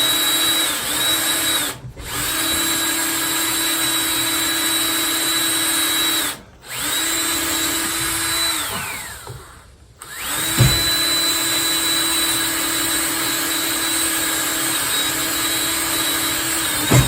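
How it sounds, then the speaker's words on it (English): A power drill fitted with wood bits bores through epoxy and fiberglass while building a Wharram Tiki 21 catamaran. The motor whines loud and close in long sustained runs, stopping briefly three times, with no talking. "Those are supposed to be really good wood drilling bits, but I guess they're not very good for going through epoxy and fiberglass."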